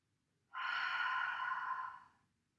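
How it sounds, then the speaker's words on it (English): A single long, steady exhale out through the mouth during a guided breathing exercise, breathy and close, lasting well over a second before trailing off into quiet. "Exhale out the mouth."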